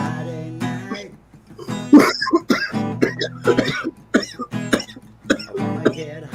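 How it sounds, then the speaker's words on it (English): Several harsh coughs break out over a background of music and voices at a Friday-night livestream party, close and fairly loud. "Cough, cough, cough."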